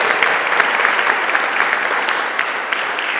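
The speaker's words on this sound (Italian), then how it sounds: "dedicherei anche a lei un applauso di benvenuto" Dense, steady applause from an audience welcoming a guest at a literary conversation event in Florence, a continuous wash of many hands clapping with no gaps and no talk over it.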